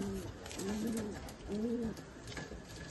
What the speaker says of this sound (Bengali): এই পায়রাটা খাঁচা ছেড়ে দেখাচ্ছে তোমাদের, দেখো।